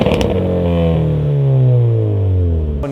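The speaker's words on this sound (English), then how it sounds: "it's going to produce a more pronounced exhaust tone." A car fitted with an aftermarket cat-back exhaust revs loudly and close, its deep exhaust note rising and then falling away over a few seconds, with no talk.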